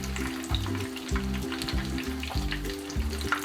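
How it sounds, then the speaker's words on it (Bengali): An egg roll flatbread fries in a pan over medium-low heat, a close, steady sizzle with rhythmic pulses of frying under light stirring, with no voices. "এদিকটাও আমি খুব মানে মিডিয়াম থেকে কম আঁচে ভেজে নিব।"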